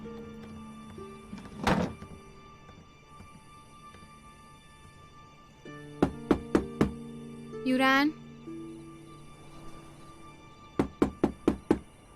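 Knocks land on a palace door in a dubbed drama scene: a single knock, then a quick run of four, and later another brisk series of four, with music and a voice calling out between them.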